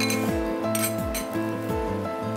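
A spoon stirs chicken Manchow soup quickly in a pot, striking the metal sides in rapid, repeated clinks over a low steady hum; no speech.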